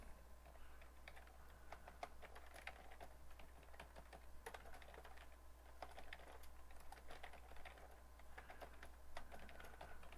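Someone types code on a computer keyboard during a live coding session, a quick, uneven run of light key clicks that keeps going throughout. A low steady hum sits underneath, and no one speaks.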